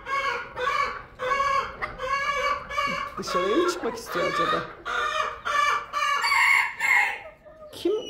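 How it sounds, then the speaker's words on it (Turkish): Hens and a rooster in a backyard garden coop cluck loudly and repeatedly, the near, agitated clucking rising into squawks and crowing, with a voice speaking briefly over the birds. "Kim gıdaklıyor böyle?"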